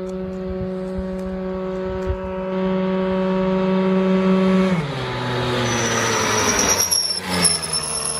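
Piaggio NRG 94 scooter with a Polini kit, running on ethanol, holding a steady high-pitched whine, then the revs shift and drop before a rising, raspier burst of throttle, close and loud.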